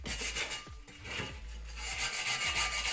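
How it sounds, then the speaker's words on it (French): A wire brush scrubs over fresh welds on a steel bus chassis, making rough, scratchy strokes close up with a short pause partway through. "Là je vais faire un coup de brosse."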